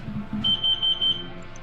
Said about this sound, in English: Looking at these waveforms, it would seem that the source of this beep is under the stairs.